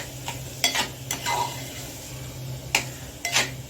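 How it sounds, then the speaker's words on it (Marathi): Bombil fish chutney sautés in generous oil while a spatula stirs it, a soft steady sizzle under several sharp scraping strokes against the pan in irregular bursts, close up and without speech. "आता हे छान परतून घ्यायचं आहे आपल्याला."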